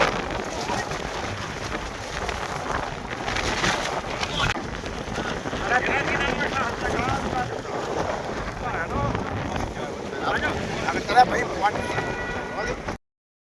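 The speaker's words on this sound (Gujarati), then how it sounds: "ખૂબ જ પવન છે," Strong wind buffets the microphone on a misty monsoon trek at a tented campsite in Saputara, Dang, a steady loud rushing roar with gusts throughout, voices talking over it.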